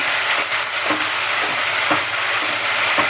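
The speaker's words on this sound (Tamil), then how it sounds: "எனக்கு தேவை தக்காளி அதனால் போடுறேன் நல்லா வதங்கட்டும்" Chopped tomato sautéing in a pan for a mint, coriander and curry-leaf chutney, giving a steady close sizzle and frying hiss with faint stirring scrapes throughout.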